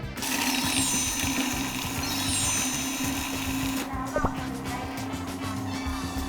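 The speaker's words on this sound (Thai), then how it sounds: "ปั่นเลยดีกว่า" A blender whirring steadily as it purées basil pesto with parmesan cheese, a loud, constant motor drone that runs through the whole clip, with a brief knock near the end.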